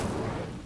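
A brief, dense roaring burst of flame as the Incendio fire spell is cast in a Hogwarts video game, loud and close, lasting under a second.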